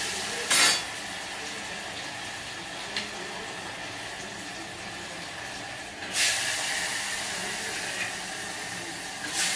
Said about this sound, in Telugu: నూనె ఎచ్చబడింది దాకా ఉన్నాను ఇప్పుడు ఎచ్చబడింది వేస్తా ఒక్కొక్కటి చూడండి